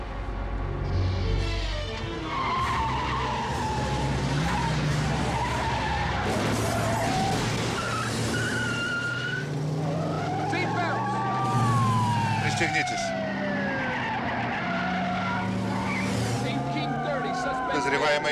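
Car chase in a 1991 action film, with tires skidding and squealing over a loud engine roar as a police siren wails and sweeps through the scene, with talk mixed in.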